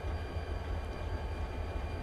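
An eastbound Missouri Pacific unit train of pipe flat cars rolls into a rail yard, heard as a steady low rumble and wheel roar with no distinct clanks, constant and fairly close throughout.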